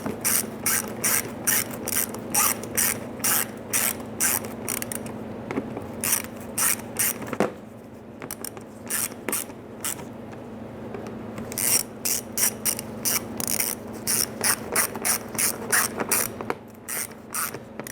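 A hand ratchet snugs down bolts on the radiator support of a 2005-2010 Chrysler 300, giving rapid bursts of clicking pawl strokes repeated many times with short pauses between, close and crisp.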